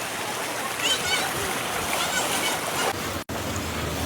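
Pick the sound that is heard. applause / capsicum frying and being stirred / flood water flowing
flood water flowing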